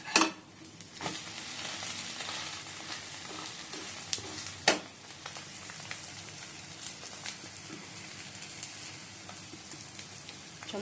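Eggs sizzle in a frying pan with a fine crackling hiss, broken by a few sharp clicks and scrapes of a utensil, fairly quiet and close with no talking.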